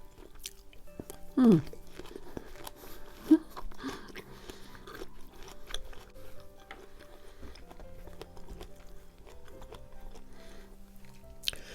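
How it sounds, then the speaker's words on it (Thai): Someone bites into and chews whole Japanese kumquats with the peel on. Two crisp crunches stand out early, then softer, wet chewing sounds follow close to the mic in a quiet room. "เวลาเราเคี้ยวไปนี่นะคะเขาจะมีความฉ่ำ"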